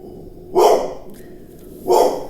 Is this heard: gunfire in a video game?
no